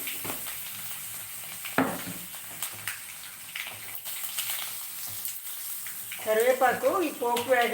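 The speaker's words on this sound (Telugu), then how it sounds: "చూడండి వేగుతుంది ఇంకా ఆగలేదు వేగుతూ ఉండగా" Broad beans (chikkudukaya) fry in a hot pan with a continuous close sizzle and crackle, a few stirring clatters along the way, and a voice talks over it toward the end.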